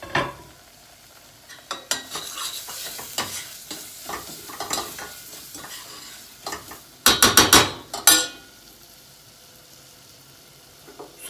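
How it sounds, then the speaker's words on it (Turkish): Thinly sliced onion fries in a pan with flour while being stirred, a soft sizzle under scraping spoon strokes, then a loud burst of rapid clattering stirring before it settles back to quiet frying. "Soğan kavrulsun diye."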